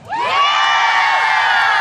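A young crowd at a live jousting event cheers and whoops loudly for the whole moment, with children's shouts mixed into a sustained, bright roar.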